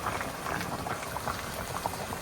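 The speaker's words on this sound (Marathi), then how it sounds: "पाणी छान आपलं तापलंय" Water boiling in a pot while mutton curry is cooked, a soft close bubbling and gurgling that runs steadily throughout with small irregular pops and no voices.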